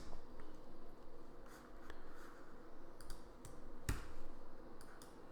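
Soft mouse clicks sound while working in InDesign: a few faint, scattered taps over quiet room noise, with one sharper click near the end.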